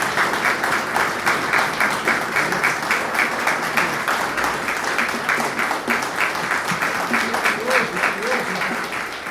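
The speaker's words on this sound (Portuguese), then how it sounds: "nós temos que homenagear com uma salva de palmas" A full audience in the Mackenzie school auditorium claps steadily for about nine seconds, a dense, even wash of applause with a few louder hands close by and faint voices underneath.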